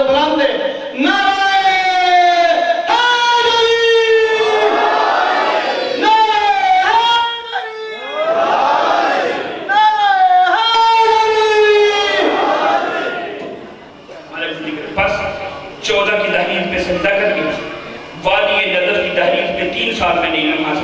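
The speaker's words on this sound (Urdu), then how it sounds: "جب بھی کوئی نعرہ لگاتا ہے تو نعرے کا جواب باواز بلند دے" A crowd at a majlis at an imambargah in Qila Didar Singh loudly chants back the response to a religious slogan, several forceful, drawn-out unison shouts in quick succession, with a single voice raising the slogan between them.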